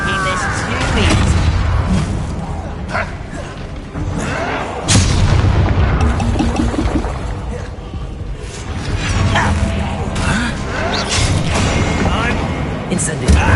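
Fiery spell blasts and bursts crackle through combat in the Hogwarts Legacy video game, loud and dense over nearly fourteen seconds, with repeated booming hits and character voices shouting over the clamor.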